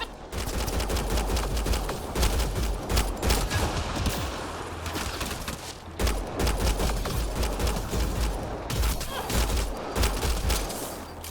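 Bursts of rapid gunfire in Mass Effect Andromeda, loud repeated volleys with short pauses between them during a firefight against hostile locals.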